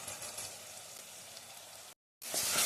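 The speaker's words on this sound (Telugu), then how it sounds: "మసాలా పేస్ట్ బాగా వేయించుకోవాలండి." Masala paste sizzling and frying with onions and green chillies in a pan, a steady close crackling hiss that cuts out briefly and returns louder.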